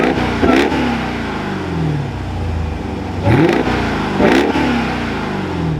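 Dodge Durango SRT Hellcat V8 engine starting and revving: a deep idle rumble broken by three sharp, loud throttle blips that rise and fall quickly, heard close with no talk.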